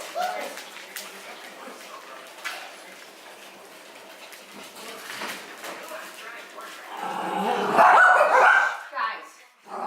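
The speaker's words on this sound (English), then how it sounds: "Guys, no bark." Six-week-old puppies yipping and barking in short bursts scattered through the stretch, rising into a louder cluster near the end, while someone talks to them.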